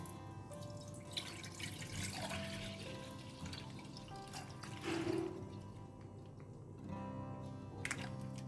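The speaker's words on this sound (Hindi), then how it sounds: "थोड़ा सा पानी इसमें मैं ऐड करती हूँ।" Water pours from a vessel into a pot of milk in a home kitchen, a faint trickling and splashing with a few drips and light clinks, with no talking.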